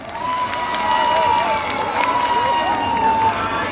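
An audience at a fair claps and cheers loudly and steadily, with shouts and a voice rising over the crowd noise.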